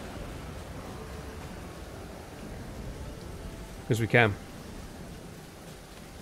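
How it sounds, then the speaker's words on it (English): Steady rainstorm in Stranded Deep, a constant hiss of rain over a beach setting, briefly interrupted by someone speaking a few words. "we have no idea if this storm's going to last for ages or just be over really quickly"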